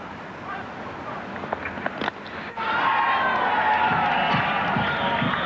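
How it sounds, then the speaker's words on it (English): West Indian supporters at an England v West Indies Test match at Trent Bridge in 1980 burst into loud, sustained crowd cheering with honking horns, swelling sharply partway through after a murmuring crowd. "every run going to be cheered by those West Indian supporters over there"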